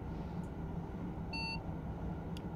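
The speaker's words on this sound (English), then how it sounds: "why are you now beeping at me 160?" In Train Simulator, on the LGV Rhône-Alpes & Méditerranée high-speed route, a train cab warning gives a single short, clear electronic beep over a steady low rumble of the running train.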